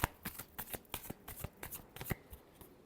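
Tarot cards being shuffled up close, a quick run of soft riffling flicks and slaps repeating steadily for a few seconds, with no talk.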